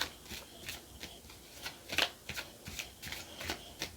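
Tarot cards being shuffled by hand during a reading, a close series of rapid riffles and soft slaps in an uneven rhythm with no talk over them.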